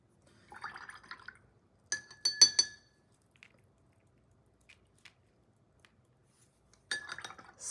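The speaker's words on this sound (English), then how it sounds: "Splashing dirty water." Paintbrush splashing and tapping in a glass of dirty watercolor water, with short bursts of clinks and swishes separated by near silence, close and fairly crisp.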